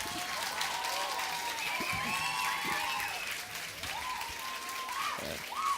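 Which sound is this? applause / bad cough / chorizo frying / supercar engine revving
applause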